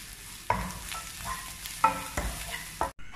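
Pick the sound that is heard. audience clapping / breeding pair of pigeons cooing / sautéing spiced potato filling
sautéing spiced potato filling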